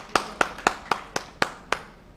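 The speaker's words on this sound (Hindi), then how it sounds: "सर इन लोगों के लिए एक बार जोरदार तालियां" Scattered classroom applause from students praised by a law lecturer: seven distinct claps in an uneven, slowing rhythm, close and fairly quiet, with no talk over them.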